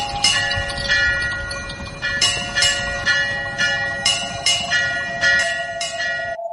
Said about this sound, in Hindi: तभी मंदिर की घंटियां अपने आप बजने लगी।